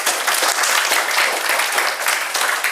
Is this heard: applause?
yes